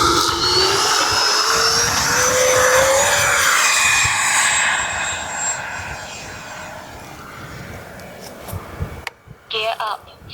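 Freewing T33 RC model jet taking off in a crosswind, its steady ducted-fan whine rising in pitch as it accelerates and climbs away, then fading toward the end while a few people talk nearby.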